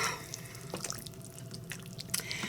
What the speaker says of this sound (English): I may put some more water in here.